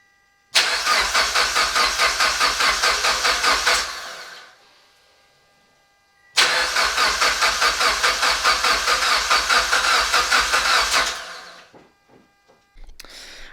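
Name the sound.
Mitsubishi Evo X big turbo engine cranking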